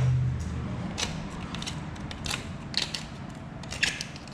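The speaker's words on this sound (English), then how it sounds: "And get the socket on there." A socket wrench loosening a motor mount bolt on a 1977 Pontiac Trans Am makes a series of short clicking ratchet and creaking metal sounds, close and fairly quiet.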